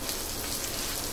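Rice sautéed and stirred in oil in a pan, giving a brief, steady crackling sizzle that sounds much like light rain, close and fairly loud with no voices.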